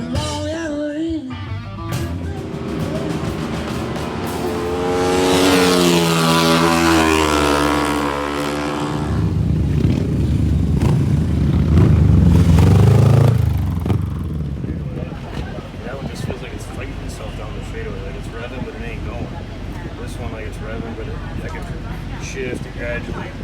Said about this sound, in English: That gear still hits the limiter 1-1 just perfect.